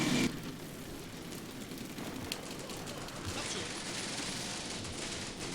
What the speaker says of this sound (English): Got that gunfire going on down